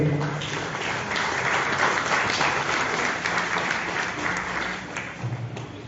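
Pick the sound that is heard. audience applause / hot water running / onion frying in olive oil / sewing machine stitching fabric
audience applause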